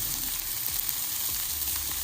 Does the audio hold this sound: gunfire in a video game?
no